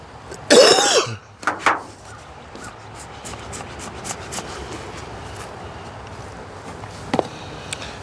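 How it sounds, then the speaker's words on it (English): A person beside a beehive gives one loud, close burst of coughing and throat clearing, then a smaller cough, followed by quiet outdoor background with faint taps. "Excuse me, I'm gonna cough."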